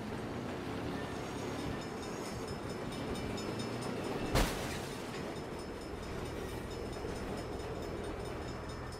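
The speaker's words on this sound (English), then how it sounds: "Bad time for a train." A train rumbles steadily past in the video game Saints Row, a continuous low roar with a sharp bang midway through.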